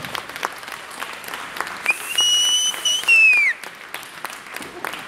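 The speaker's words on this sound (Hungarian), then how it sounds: "Ilyen maroknyi közönség is tud nektek tapsolni." A small audience claps at a junior standard ballroom dance competition, a thin continuous patter of applause, with a loud whistle rising over it partway through.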